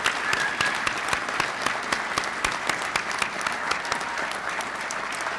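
Audience applause at a Town of Oyster Bay inauguration ceremony, a steady dense clapping from a large crowd that fills the whole stretch at even loudness, with no voices above it.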